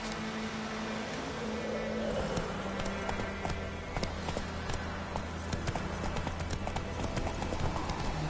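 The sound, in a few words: horse hooves galloping in The Witcher video game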